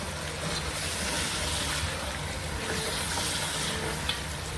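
Bay leaves and star anise being stirred into a pot of chicken nihari, a steady close sizzling and scraping texture running evenly throughout with no pauses.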